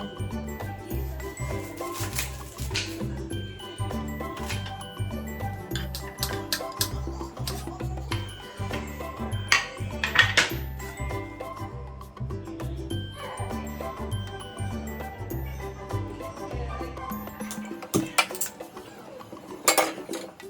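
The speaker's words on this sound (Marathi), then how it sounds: "सगळ्यात आधी आपण कांदा आणि टोमॅटो कट करून घेऊया." A knife chops onion and tomato in a home kitchen for Marathi-style tempered rice, giving a close, steady run of quick clicks and clinks against a board and utensils, with no voices.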